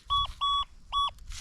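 An XP Deus II metal detector beeps over a target: three steady, clear electronic tones in a row, close and even, over faint background rustle.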